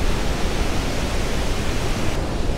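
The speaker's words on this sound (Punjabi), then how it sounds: "ਇਹ ਵਾਟਰਫਾਲ ਵੀ 50 ਮੀਟਰ ਡੂੰਘੀ ਹੈ, ਲਗਭਗ 150 ਫੁੱਟ" Steady, dense rushing roar of Tajikistan's largest waterfall, about 50 metres high, heard up close and alone without any voices, constant throughout.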